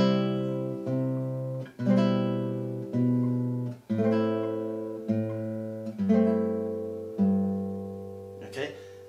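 A classical guitar plays a short phrase from Bach's Air on the G String: plucked bass notes and chords spaced about a second apart, each decaying before the next, close and alone with no speech.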